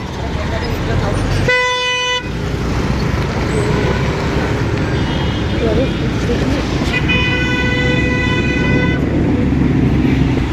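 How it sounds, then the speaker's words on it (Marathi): Heavy city traffic near Kailasnagar rumbles continuously as a police car and other vehicles pass close by. A vehicle horn sounds twice, once briefly and once with a longer blast, while people talk over the road noise. "पण चाललंय बाई पोलीसची गाडी येते कुठून तरी मागून गाडी येते"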